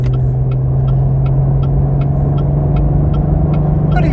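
Cabin of a Cadillac ATS-V under way, a loud steady low engine hum and road rumble with a faint regular ticking over it, no clear rise in pitch.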